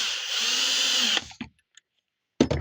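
A Milwaukee M12 BPD drill runs steadily with a high, whining motor hum for about a second, then cuts off, followed by a few clicks and a short final burst.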